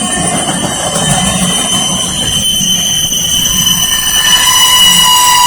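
A Norfolk Southern freight train rolls past a station with bad bearings, sending loud, sustained high-pitched squealing and whining tones over the heavy rumble of wheels on rail, close and continuous.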